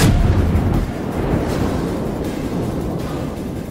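Warship guns firing in a naval combat video game: a heavy, loud blast at the start, then a long rumbling roar that slowly fades over several seconds, with no voices.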